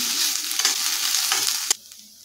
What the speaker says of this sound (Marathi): मीडियम गॅसवरती आपल्याला कांदा परतून घ्यायचा आहे.